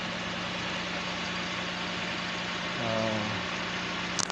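A surplus motorcycle with a smoky exhaust and a brake fluid leak idles steadily close by, a low even rumble that briefly swells near the end before a few light clicks.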